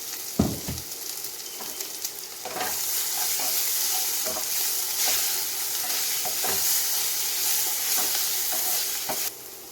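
Ground masala scraped into a pan of frying kothavarangai poriyal and stirred, an oily sizzle rising and holding steady under repeated spoon scrapes and knocks against the pan, close and clear without talk.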